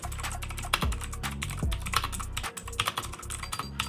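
Rapid clicky keystrokes on a budget mechanical gaming keyboard fitted with blue switches, close and crisp, with uneven bursts of typing and a few heavier key presses.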